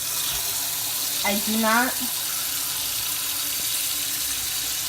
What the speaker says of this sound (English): what I'm gonna do, I'm gonna turn on my sink.